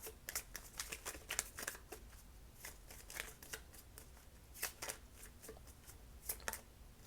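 Oracle cards being shuffled by hand, a quick papery riffle of soft, uneven bursts repeating throughout, close and fairly quiet, with no voices.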